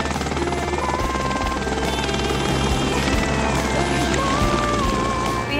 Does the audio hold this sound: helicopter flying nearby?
yes